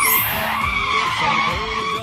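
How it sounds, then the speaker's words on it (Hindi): A car's tires squeal loudly as it skids to an abrupt stop, a sustained, harsh screech that wavers in pitch and stays prominent and close throughout. "अबे गाड़ी कैसे रुक गई?"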